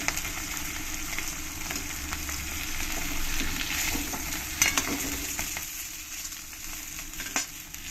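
Rohu fish pieces fry in hot oil, producing a dense, even sizzle with occasional sharp spits and pops, close and fairly loud with no voices.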